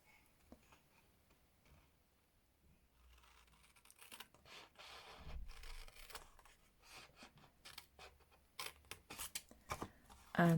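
Scissors cutting patterned designer series paper up to a score line for a gift box, with soft snips and rustling paper growing louder toward the end, close and fairly quiet.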